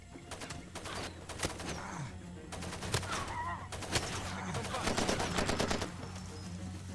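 Enemy gunfire in the video game Far Cry 2 crackles in rapid bursts and scattered shots, moderately loud throughout, with bird-like calls faintly in the background.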